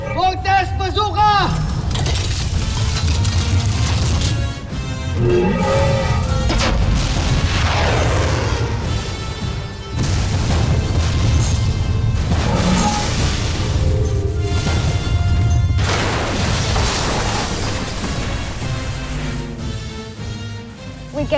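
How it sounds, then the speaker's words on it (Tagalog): The Voltes Bazooka weapon from Voltes V Legacy firing, with heavy booming blasts and rumbling explosions layered over music and shouted dialogue, loud and sustained throughout. "Voltes Bazooka!"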